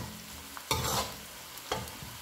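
Onions that have turned pink and soft frying in a pan for mash daal, a soft steady sizzle with two louder bursts as they are stirred, close and alone.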